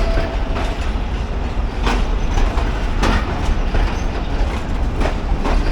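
Railcar rake of a Pakistan Railways train arriving at a station platform, carrying parlor car, business class and AC standard coaches; a steady, loud rolling rumble with rhythmic wheel clatter over rail joints runs continuously throughout, with no talking.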